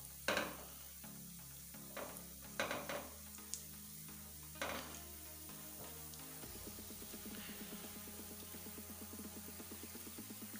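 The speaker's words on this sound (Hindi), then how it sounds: "नीचे से इनको थोड़ा थोड़ा हिलाते रहें" A breakfast dish frying in a pan, with a steady low sizzle and occasional spoon scrapes and knocks against the pan as it is stirred, heard close and quiet.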